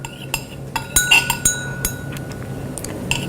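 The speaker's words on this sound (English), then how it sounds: "so you stir and allow it to form" A rod stirs a soap mixture in a glass beaker, giving scattered light clinks and taps against the glass over a faint background hiss.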